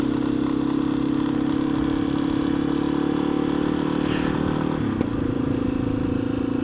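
A 2015 Yamaha XT 250 single-cylinder motorcycle pulls under light throttle, a steady loud low engine drone with a small dip and change in pitch near the end and faint rattle over it, no speech.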